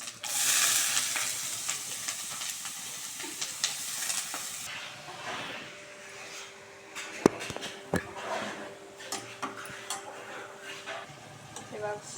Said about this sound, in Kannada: ಇವಾಗ ಇದನ್ನು ಒಗ್ಗರಣೆಗೆ ಹಾಕ್ಕೊಂಡಿರ್ಬೇಕು.